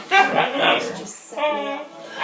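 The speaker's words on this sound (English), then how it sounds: "This is my dog." A dog in a playful mood vocalizes up close in two bursts of whimpering, yipping sounds, loud and near with a short pause between them.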